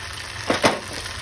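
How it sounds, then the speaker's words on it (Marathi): Ghevar batter deep-fries in hot oil with a continuous close sizzle, swelling in two quick bubbling bursts as it is pressed down. "थोडंसं असं आत डीप करते त्याला म्हणजे ते व्यवस्थित असं फ्राय होईल"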